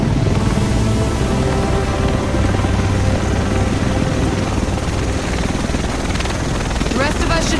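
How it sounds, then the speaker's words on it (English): A helicopter arrives in the video game The Division, its loud, steady rotor roar filling the whole stretch under some speech. "The rest of us should be in this chopper."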